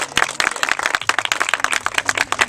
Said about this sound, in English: Let's have a round of applause for our 2 Prince Johns.